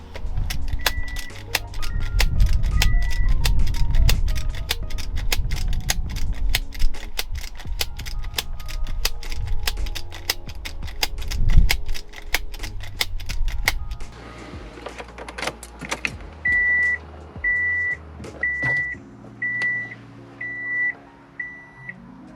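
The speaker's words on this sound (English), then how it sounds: "latching and relatching your seatbelt 20 times within 30 seconds" A Subaru seat belt buckle is latched and unlatched over and over in the car, giving a fast run of sharp metallic clicks, with a repeating electronic chime beeping in steady pulses near the end.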